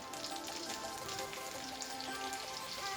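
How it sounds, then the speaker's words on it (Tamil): Chopped onions hiss and crackle in hot oil inside a pressure cooker, a soft, steady sizzle that stays even for a few seconds, with no talking. "இப்போ நம்ம வெட்டி வச்சிருக்கிற வெங்காயத்தை சேர்த்துக்கலாம்."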